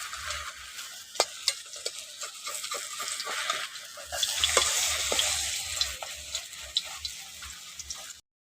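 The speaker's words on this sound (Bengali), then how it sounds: "এটাকেও উলট পালট করে ভালো করে ভেজে নিয়েছি" Gram flour batter frying in hot oil and being turned over, for an eggless omelette curry: a loud steady sizzle with crackling pops throughout, swelling midway, then cutting off abruptly at the end.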